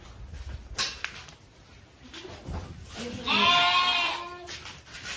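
Lambs bleat on a farm, one loud, wavering cry rising clearly in the middle of the clip over quieter background noise and soft speech.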